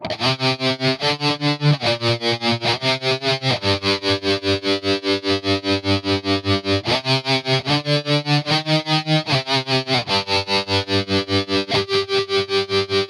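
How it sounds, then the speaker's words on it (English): Electric guitar chords pulse in a fast, even throb from the tremolo effect of a budget Tank-G multi-effects pedal, the volume wobbling rhythmically throughout as the chords change. "let's move on to the tremolo effect"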